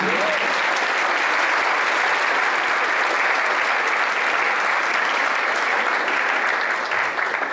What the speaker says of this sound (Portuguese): Você pode dar umas palmas de palmas bem bonitas?